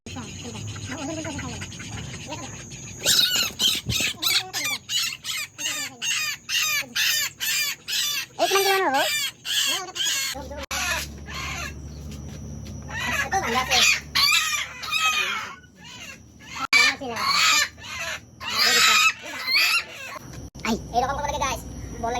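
Backyard chickens cluck in rapid, dense bursts while a rooster crows loudly nearby, with people talking over the birds for much of the time.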